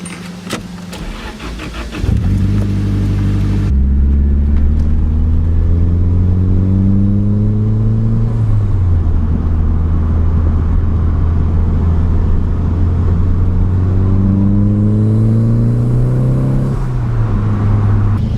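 A turbocharged car engine fitted with a boost controller idles, then revs up repeatedly, its pitch climbing through the gears with each pull. Loud and close, with no talking.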